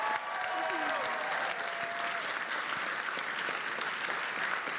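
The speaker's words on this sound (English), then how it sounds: "Everyone, let's give them a warm round of applause." A crowd at a PAX East gaming convention panel applauds warmly in a steady, unbroken round of clapping. A brief vocal tone rises over the start.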